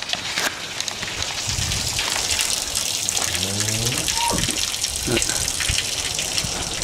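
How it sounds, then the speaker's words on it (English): Cows urinating inside a barn on a dark morning, a steady gushing splash of liquid hitting the floor, loud and continuous with faint barn noises behind. "That's the sound of cows having a wee."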